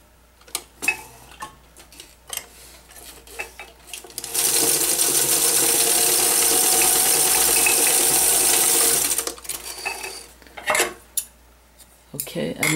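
Sewing machine stitching a zippered lining pocket, a steady, loud mechanical whir running for about five seconds, framed before and after by scattered clicks and handling clatter.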